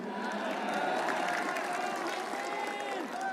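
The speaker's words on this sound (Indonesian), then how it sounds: "Tepuk tangannya dahsyat penuh rasa cinta." Applause and crowd noise at a Gerindra and PKB political coalition gathering, greeting the arrival of the Gerindra chairman; a steady wash of clapping continues throughout, with voices mixed in.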